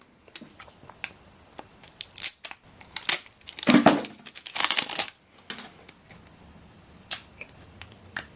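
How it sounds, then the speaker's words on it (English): Short crinkly tearing and crackling bursts as protective air-vent tape is peeled off an HP ink cartridge for an Officejet 8135e printer, irregular and fairly close, with no talking. "So pull off the air vent."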